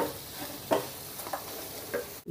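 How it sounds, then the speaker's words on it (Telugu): Apollo fish pieces fry in a sauce in a pan, a soft continuous sizzle with several brief scraping stirs spaced through it, fairly quiet and without talking. "ఇప్పుడు ఒక 2 నిమిషాలు ఇలాగా ఈ సాసులన్నీ మన ముక్కకు పట్టేంత వరకు ముక్కల్ని ఫ్రై చేసుకుందాం."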